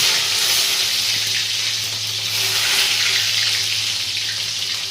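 Green chillies hit hot oil in a pan for an aloo paneer curry, giving a loud, steady hiss of sizzling that runs unbroken and close up from start to finish, with no voices.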